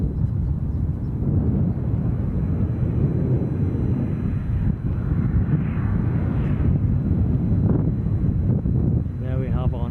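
An aircraft departs from Edinburgh airport as a loud, steady broadband roar that fills the whole stretch, with wind buffeting the microphone and a faint voice near the end.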